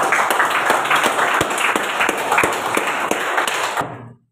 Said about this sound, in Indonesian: Ya bagus ya, kita kasih aplaus.